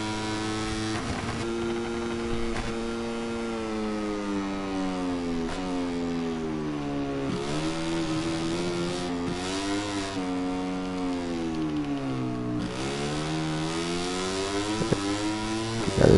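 A racing motorcycle on a timed lap howls through repeated rising revs and sharp gear changes, its engine note sweeping up and dropping back for the whole run, loud and close.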